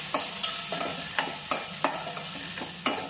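Mango curry seasoning with turmeric and chili powder fries in a pan, a quiet sizzle under a steady rhythm of spoon scrapes and taps roughly every third of a second.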